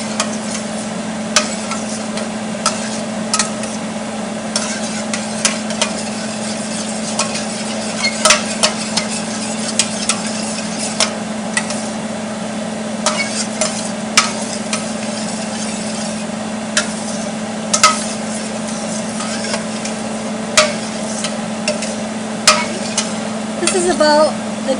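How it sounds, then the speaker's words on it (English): Butter melting in a pan while being stirred, before garlic goes in: a steady low sizzle with a constant hum, broken by frequent light scrapes and clicks of the utensil. "my butter has begun to melt for a little bit here now"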